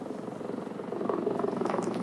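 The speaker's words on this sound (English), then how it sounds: "Another helicopter coming in" A firefighting helicopter comes in low over a burning hillside for a water drop during the October 1993 Los Angeles wildfires, its steady rotor chop and engine drone filling the clip and growing slightly louder and closer.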